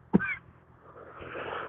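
A single short, sharp cough bursts out near the start, followed by quieter breathy rustle and faint background noise.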